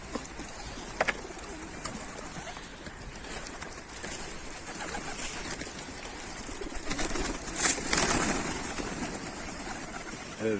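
Mardin pigeons on a rooftop give soft cooing and faint calls over steady outdoor background noise, with an occasional brief flutter of wings.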